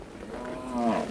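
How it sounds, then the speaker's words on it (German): In Kenya, a cow held with a rope tightened around its neck for bloodletting gives a single short moo that rises at the end, close and moderately loud, with no voices heard. "Hier wird eine Kuh zur Ader gelassen."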